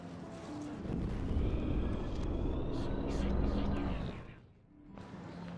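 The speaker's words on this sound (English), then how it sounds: "I have to focus on making sure this drone doesn't crash" A drone in the video game Life is Strange flies close, a loud rushing whir that rises and dips and briefly fades near the end before returning.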